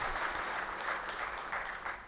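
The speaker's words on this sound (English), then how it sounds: "May we please have a round of applause" A round of applause for arriving guests at an Indian insolvency board's annual day event: brief, even clapping from a seated audience, fairly soft and distant, with no voices.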